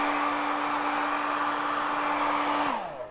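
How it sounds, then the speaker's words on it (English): A hair dryer blasts air onto freshly painted custom Converse sneakers, a steady close, loud whoosh with a constant motor whine that winds down as it switches off near the end. "Blow dry it really good."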